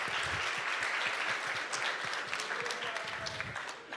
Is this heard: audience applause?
yes